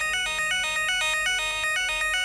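Burglar alarm notification on a phone triggered by Philips Hue motion detection: a repeating electronic ringtone of bright pulsed tones in a fast steady rhythm, loud and alone without talk.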